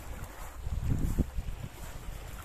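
A soft wind buffets the microphone with a low, steady rumble, rising and falling gently, with no voices, on the Corsican coast between Propriano and Ajaccio.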